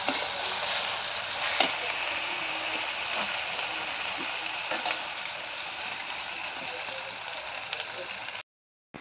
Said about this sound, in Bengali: খুব ভালো করে পেঁয়াজটা লাল লাল করে ভেজে নিচ্ছে